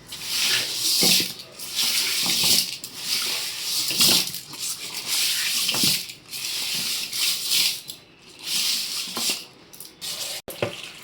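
Running water splashes steadily from a tap over fish being washed for several seconds, with occasional wet handling sounds and a brief clatter near the end.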